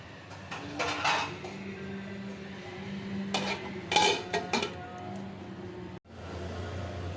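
A pan of salted spinach with a little water being handled and covered with a lid, metal clinks and knocks of the cookware and lid against the stove, quiet and close, ending with a sudden cut.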